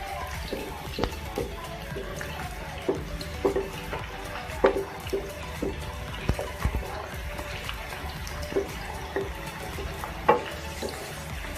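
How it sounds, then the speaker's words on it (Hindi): Onions frying in a pan for an egg omelette, a soft steady sizzle broken by repeated spoon scrapes and taps against the pan as they are stirred, close and moderately loud. "प्याज को हम फ्राई कर रहे हैं, ठीक है, हर तरफ से फ्राई करें"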